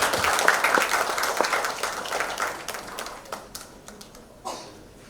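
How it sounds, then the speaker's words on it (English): Audience applause at a live real estate industry forum, many hands clapping loudly at first, then thinning out and fading to scattered claps before a last brief burst. "Let's keep the applause going."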